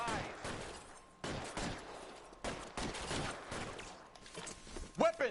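Scattered gunshots in a 1940s Los Angeles crime game, a few sharp cracks spaced through a quiet stretch, with brief in-game voices around them.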